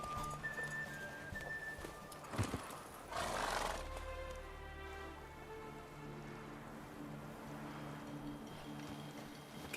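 Roach, Geralt's horse in The Witcher 3, gives one loud whinny near the middle, with clip-clopping hooves and a low background drone throughout.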